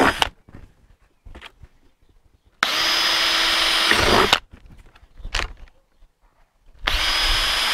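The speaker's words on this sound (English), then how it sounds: "we need to drill some holes each side" A power drill whirs loudly in two bursts while drilling holes in the corners of a patio planter, a long run of about two seconds and a shorter one at the end, with quieter clatter and handling noises between.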